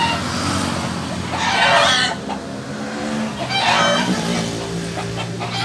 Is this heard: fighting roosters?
yes